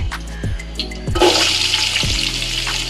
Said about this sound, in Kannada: ಹಚ್ಚಿಟ್ಕೊಂಡಿದ್ನಲ್ಲ 2 ಗೆಡ್ಡೆ ಈರುಳ್ಳಿ ಅದನ್ನು ಹಾಕ್ಕೊತೀನಿ. ಇದನ್ನು ಚೆನ್ನಾಗಿ ಫ್ರೈ ಮಾಡ್ಕೊತೀನಿ.